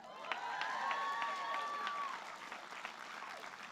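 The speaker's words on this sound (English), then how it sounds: "Yes, you can clap on that." Audience applause at a nursing school pinning ceremony, a soft, distant spread of clapping from a large crowd that holds steady, with a few cheers and voices mixed in.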